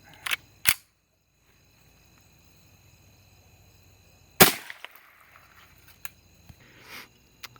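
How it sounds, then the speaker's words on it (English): A .22 Mini Mag hollow point round fired from a rifle, heard as one loud, sharp crack. It follows two shorter snaps, with faint insect chirps in the quiet background. "that was the Mini Mags out of the rifle"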